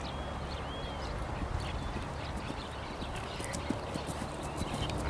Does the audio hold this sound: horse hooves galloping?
yes